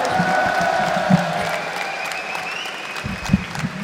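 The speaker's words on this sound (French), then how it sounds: "Et on va aussi applaudir les vainqueurs" Applause from an audience at a stage event celebrating winners, sustained clapping with scattered cheers and whistles and a few louder thumps, continuing evenly throughout.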